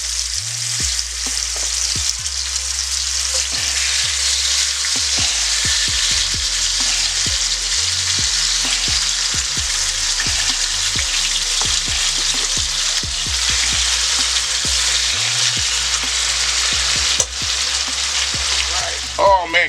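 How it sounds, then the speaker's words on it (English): Pork chop shallow frying in a thin coating of oil in a cast iron skillet, a steady loud close sizzle with crackling pops throughout, no talking. "I got my cast iron skillet on. I got the bottom just coated with enough of oil. It's going to be like a little shallow fry."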